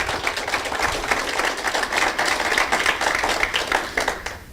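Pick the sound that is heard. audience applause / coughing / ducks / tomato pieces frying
audience applause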